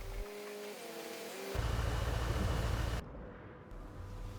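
The Vostok Pioneer, a heavy tank-like truck in Roadcraft, grumbles with a low engine note that shifts pitch, then swells into a louder, rough rumble before cutting off abruptly.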